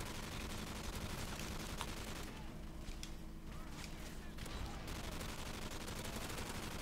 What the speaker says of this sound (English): God, the LMG just tears through them.